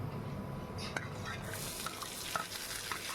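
Onions roasting and being stirred in a hot pan while cooking for aloo paratha, a steady low sizzle with soft scraping stir strokes and faint background voice.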